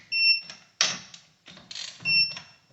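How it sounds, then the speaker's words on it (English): A digital torque wrench beeps as it reaches torque during rally car pit service, several short high electronic tones between bursts of mechanical clatter and handling noise. "As soon as the torque wrench beeps"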